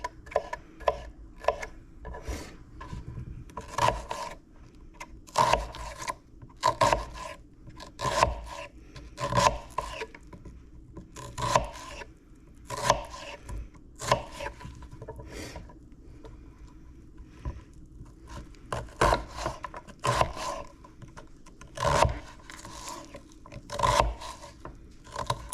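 Knife chopping half of a medium-sized onion on a cutting board for meatloaf, a steady run of close, crisp cuts and taps that comes in bursts with short pauses, and no talking.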